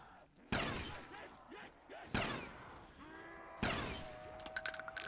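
Bursts of video game gunfire in Black Ops 3 Zombies, three loud volleys opening abruptly and ringing out, the last followed by a rapid string of sharper shots, with a voice talking over the action.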